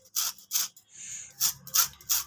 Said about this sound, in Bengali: তো পুরো একটা লেবুরই আমি এখানে ঘষে দিচ্ছি।